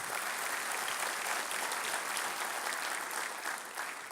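A dense, steady round of applause from an audience at a business event honoring construction partners, many hands clapping together at a constant loud level for the whole stretch.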